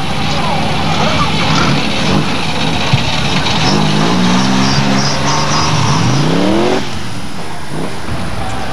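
A Hotstox race car at Buxton pulls away, its engine note rising in pitch as it accelerates off, under a commentator's voice and a busy trackside background.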